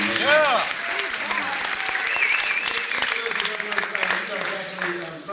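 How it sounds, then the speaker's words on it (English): An audience at a film premiere in Austin, Texas applauds loudly and continuously, with cheers and a few voices rising over the dense clapping throughout. "you guys should give yourself a round of applause"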